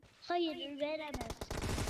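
Automatic gunfire in PUBG Mobile: a brief raised voice first, then a fast crackling burst of closely spaced shots that keeps going to the end.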